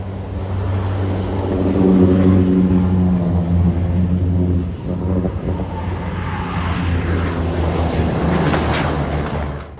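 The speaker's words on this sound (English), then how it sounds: "A Boeing 777 experienced a landing where its landing gear fractured upon touchdown." Boeing 777 airliner touching down with a fractured landing gear, heard as a loud, steady jet-engine roar with low rumble throughout, surging and shifting midway without a distinct separate crack.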